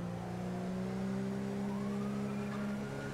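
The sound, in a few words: police car siren in video game GTA 5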